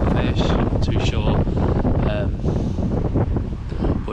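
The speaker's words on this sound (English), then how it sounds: "But it's just far too windy." Strong wind buffets a microphone outdoors at a carp fishing lake, a loud, steady rumbling roar with gusty surges throughout.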